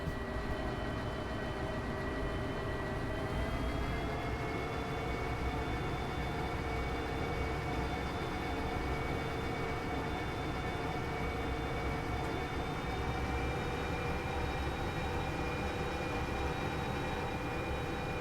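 Freight train pulled by locomotives in the Derail Valley video game, a steady low rumble with a sustained engine drone that rises slightly in pitch, running alone and at moderate distance.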